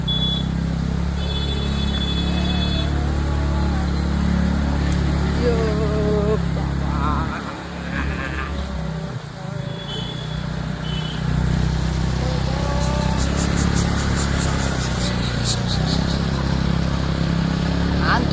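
A TVS Ntorq scooter carrying three riders pushes through mud on a monsoon road, its engine droning steadily and close. Wind rumble runs underneath, occasional beeps sound, and a person talks over the ride.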